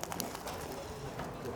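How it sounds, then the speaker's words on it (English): A pigeon coos outdoors in Salzburg, soft and somewhat distant, a few low murmuring calls blended into steady background noise. "There's the pigeon."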